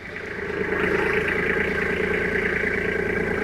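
A Kubota tractor engine rumbling steadily as it pulls away, loud and close, building over the first second and then holding a constant drone with no talk.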